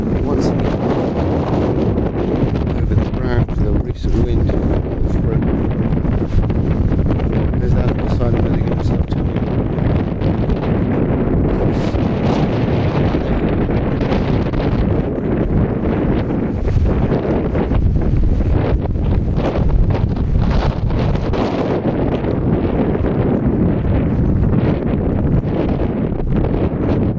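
Strong wind blowing outdoors across open ground, a loud constant roar buffeting the microphone throughout with rustling underneath.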